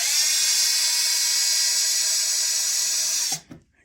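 A power drill with a bit spins steadily at high speed on an 8mm bolt of an Arrma Kraton RC truck's motor mount, a loud continuous whine that cuts off abruptly near the end.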